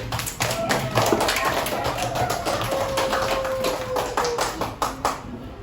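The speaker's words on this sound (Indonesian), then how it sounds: "Jadi kita kasih tepuk tangan dulu." A classroom of students gives a round of applause, a dense, steady patter of many hands clapping that carries on for several seconds before thinning out at the end.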